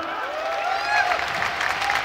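Applause from the crowd at a RISE World Series 2023 kickboxing final, a dense steady clapping wash that swells slightly partway through, with voices mixed in.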